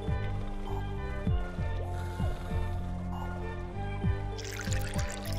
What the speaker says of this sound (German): Alles klar, er strullert hier ganz frech rein.